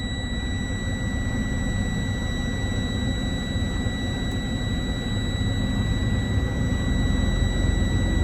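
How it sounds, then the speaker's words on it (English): A truck tractor's engine idling up inside the cab: a steady, loud broadband roar with constant high whining tones held throughout, no talk. "I'm going to actually idle my tractor up."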